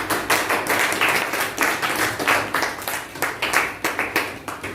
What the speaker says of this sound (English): Come out, clap for him.